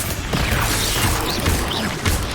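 Spell blasts from Bombarda and Confringo in Hogwarts Legacy, a steady wash of crashing, rumbling impacts with a few sharper hits, sustained and loud throughout with no clear speech.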